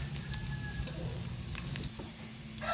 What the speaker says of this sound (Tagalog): Ang una natin gagawin syempre ang paggigisa ng bawang.